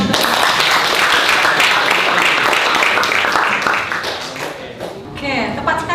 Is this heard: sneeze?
no